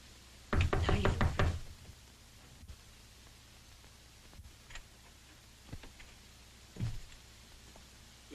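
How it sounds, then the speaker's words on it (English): A firm burst of rapid knocks on a door lands early, followed by a few single, fainter raps scattered through a quiet, hissy old-film background, with a muffled voice faintly present. "I thought I heard a knock."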